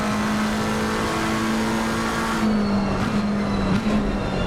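In Assetto Corsa Competizione, a race car engine at Laguna Seca WeatherTech Raceway holds a loud steady note through the lap, then blips and drops in pitch a few times as it shifts down late in the run.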